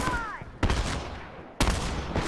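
Burst-fire weapons crack in The Last of Us, with two sharp volleys of rapid shots about a second apart, each trailing off into a reverberant rumble.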